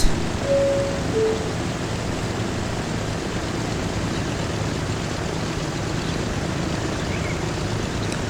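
A propeller airplane taking off in the video game Transport Fever 2, a steady broad engine roar and rushing noise holding constant throughout, with no voices.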